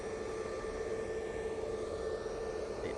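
Distant, steady jet engine whine from an Emirates airliner taxiing toward Terminal 2 at Manchester Airport, a continuous even drone with no breaks.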